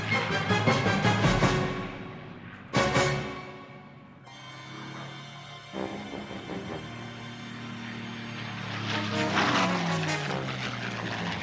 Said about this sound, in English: Here the British were using aircraft, including the Spitfire of World War II fame, to bomb and strafe suspected communist terrorist camps.